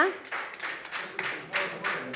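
An audience at a JCI talent award felicitation ceremony claps for a school student award recipient: a short burst of scattered hand clapping, moderately close, with uneven pulses.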